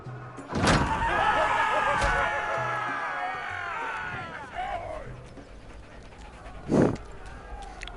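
A dog in the Game of Thrones Telltale video game gives a close, sharp bark, then pants and whimpers amid a busy game soundscape, followed later by another loud thump or bark.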